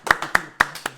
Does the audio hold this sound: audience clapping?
yes